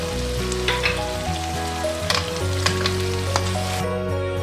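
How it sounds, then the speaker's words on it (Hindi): Chicken karahi, Lahori style with green chili, coriander and ginger, sizzles and fries steadily in a pan, with a continuous close hiss and occasional stirring scrapes. "और मज़ीद 1 मिनट के लिए भूनेंगे और आंच थोड़ी कम कर देंगे।"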